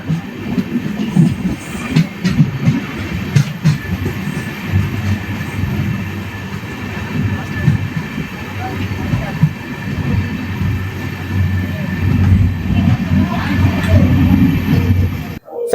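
The Amrit Bharat Express train runs on rails between Thiruvananthapuram and Chennai, heard from on board as a constant loud rumble with rhythmic clickety-clack beats over the whole stretch.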